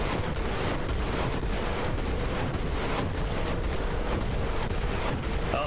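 In War Thunder, tanks fire a continuous volley, producing dense, rumbling, crackling bursts of gunfire that stay loud and steady throughout with no talk.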